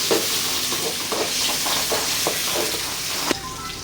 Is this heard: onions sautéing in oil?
yes